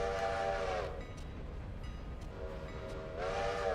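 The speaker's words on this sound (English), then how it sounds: "passenger train" Passenger train in the Railroader video game, a steady rumbling run with a drawn-out horn-like tone at the start and again near the end.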